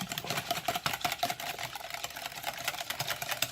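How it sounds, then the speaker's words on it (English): A wire whisk beats eggs into milk in a bowl, a fast, steady clatter of quick rhythmic strokes, close and continuous without pause. "But we're just going to whisk that together. Just until our eggs are broken up."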